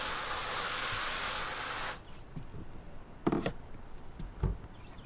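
A hose sprays water onto an RV's rubber roof, a steady close hiss lasting about two seconds, then stopping and leaving faint scattered knocks and taps.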